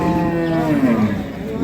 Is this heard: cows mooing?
yes